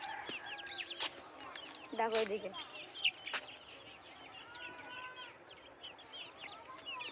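Chicks cluck and cheep in short scattered bursts while being fed, fairly faint, with a person speaking briefly among the calls.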